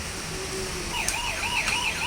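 A toy ambulance with flashing lights plays its electronic siren, a steady wailing tone that rises and falls in quick repeated sweeps, loud and close with no talking.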